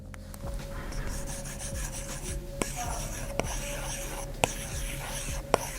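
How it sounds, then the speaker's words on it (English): A stylus scratching across an iPad Air 2020 fitted with a paper-feel screen protector, close and quiet: dry rasping strokes with a few sharp taps where the tip lands, no talking. "I'm sure you guys know how it sounds to write on paper"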